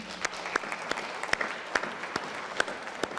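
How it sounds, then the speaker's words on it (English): A small audience at a Kiwanis Club Terrific Kids program claps for parents, grandparents and siblings, a sparse, uneven patter of distinct individual claps lasting a few seconds with no talking. "So I want you to clap for your parents and your grandparents and your siblings."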